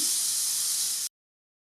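Grated bottle gourd added to hot ghee sizzles in a steady, bright hiss for about a second, then cuts off abruptly into silence.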